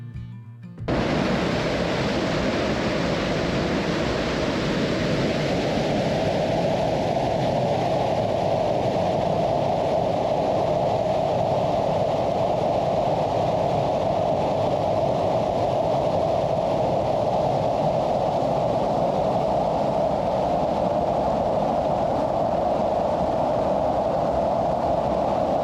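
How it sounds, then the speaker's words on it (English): Verney Falls roars in a steady, unbroken wash of water noise along the Inside Passage, a dense continuous rumble that swells in after a brief quieter start and holds constant throughout with no voices. "I started working my way to the sound of Verney Falls in the distance."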